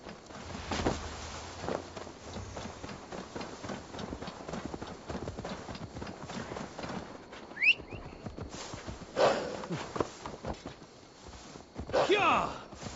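Horse hooves clip-clopping steadily in Assassin's Creed Valhalla, a continuous walking rhythm heard close, with a few brief sharp accents and some voice in the background.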